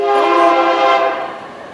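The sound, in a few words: passing train with horn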